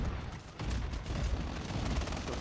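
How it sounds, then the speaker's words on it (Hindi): Bomber units in a strategy video game set off a dense, continuous barrage of blasts and gunfire-like bursts, loud and sustained with no clear gaps between hits. "चलो धमाके आ चुके, सबको मारेंगे, कोई नहीं छूटने वाला"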